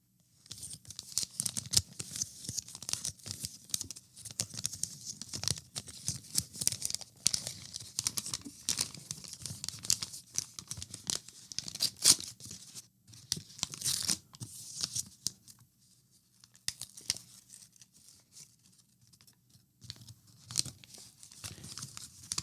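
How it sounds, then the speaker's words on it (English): Crinkly foil wrapper of a 1990 Upper Deck baseball card pack being torn open and crumpled up close, a steady run of sharp crackles and rips with brief pauses, no voices. "But at least it had a nice, crinkly pack"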